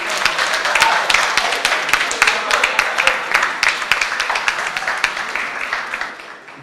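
An audience at the closing award ceremony of a science and technology innovation challenge applauds prize winners, loud, sustained crowd clapping that holds steady and then eases off at the end.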